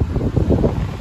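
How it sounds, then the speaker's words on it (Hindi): Strong wind blows outdoors among garden plants, buffeting the microphone in a low, rumbling roar with gusty swells, close and loud with no voices. "हवा चल रही है काफ़ी तेज"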